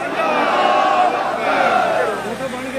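A protest crowd of government employees at a sit-in outside Parliament House in Islamabad roars back a massed chanted response to a religious slogan, loud and sustained with many voices shouting together.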